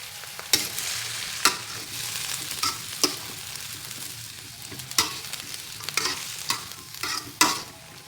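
Dried fish (tuyo) fries in a pan with a continuous crackling sizzle, broken by repeated sharp scrapes and clinks of a utensil stirring against the pan, close and alone.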